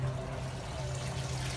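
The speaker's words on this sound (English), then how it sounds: "Filling the barrel with water now." Water from a garden hose pours steadily into a rain barrel, a continuous close trickling fill with a low hum beneath and no talking.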